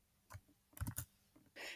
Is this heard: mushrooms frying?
no